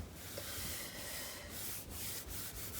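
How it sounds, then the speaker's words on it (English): A closed paper pocket being burnished down, a quiet, steady rubbing sound with soft rhythmic strokes heard close up. "burnish this down."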